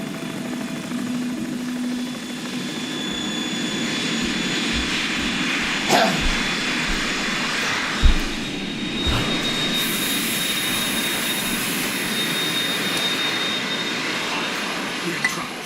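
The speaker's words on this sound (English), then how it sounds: "It's the Harrier." A Harrier jet's engine roars in Metal Gear Solid 2, a loud, steady turbine whine and rumble held throughout, with a few thuds and bursts of game effects on top.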